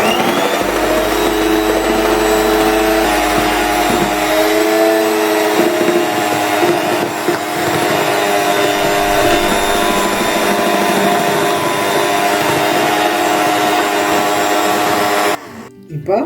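An electric mixer runs steadily with a loud, continuous whine while beating sponge cake batter for a white forest cake, holding an even drone for about fifteen seconds before cutting off abruptly near the end.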